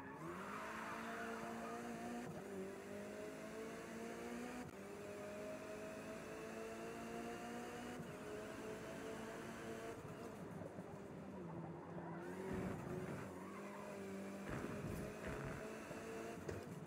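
A car in a racing game brakes and skids, the engine drone falling away before a burst of harsh tyre scrubbing and noisy scraping near the end, all heard at low level.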